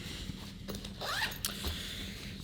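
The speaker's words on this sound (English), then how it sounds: "we can open this bottom part as well. Just a mini little YKK zipper" A small YKK zipper on the bottom pocket of a Minaal Daily bag is pulled open, giving a short, close raspy zip in two quick strokes against a quiet room.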